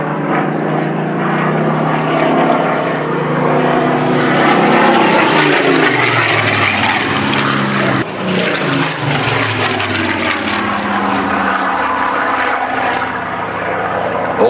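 A Battle of Britain Memorial Flight propeller aircraft, a Second World War-era camera-armed reconnaissance plane, roars loudly overhead at an airshow, its engine drone swelling and shifting pitch as it passes, with a voice talking over it.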